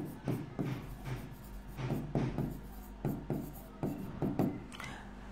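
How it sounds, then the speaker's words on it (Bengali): Pen strokes scratch across paper in short bursts, a steady run of quick close writing sounds with brief pauses between words over a low hum. "প্রথমে আমরা লিখব আমরা জানি।"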